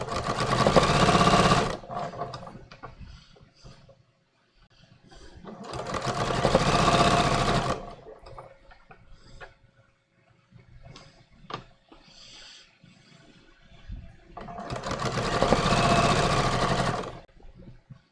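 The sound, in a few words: sewing machine stitching floral linen shorts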